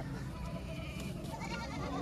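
Goats at a Punjabi livestock market, with a bleat rising over dense crowd chatter and constant market bustle, close and steady throughout.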